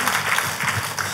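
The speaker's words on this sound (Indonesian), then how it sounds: "Tepuk tangannya yang meriah buat Tuhan kita." A congregation at an Indonesian church service gives a short, dense round of applause, steady and full throughout.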